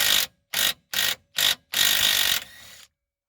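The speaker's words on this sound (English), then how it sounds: "we're going to undo the nut underneath" A ratchet undoes the nut on a Peugeot 206 lower suspension control arm bolt in four short, loud clicking bursts, then one longer run of fast ratcheting that fades out.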